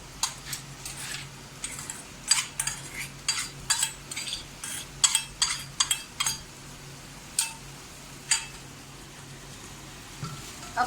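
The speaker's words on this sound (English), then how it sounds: "I will saute it for 2-3 minutes so that adrak and lesan gets bhunod nicely" Finely chopped ginger and garlic sautéed in a pan, heard as a run of close, crisp spatula scrapes and stirring clicks in an irregular rhythm over a faint, steady sizzle.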